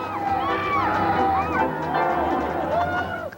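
Baseball fans cheer and shout inside the Metrodome before a Minnesota Twins postseason game, a steady loud crowd roar with whistles and voices rising over it throughout.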